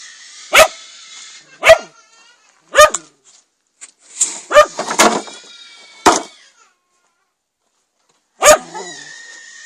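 Dogs at a Finnish summer cottage bark in sharp, separate bursts, about seven loud close barks with quiet gaps between them and a brief cluster of yaps in the middle.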